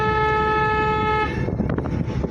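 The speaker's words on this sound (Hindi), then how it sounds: "हॉर्न थोड़ा लंबा लेंगे" A single long car horn blares loudly and steadily for over a second during a driving lesson on an Indian road with trucks near a weighbridge, then cuts off, leaving road and engine noise.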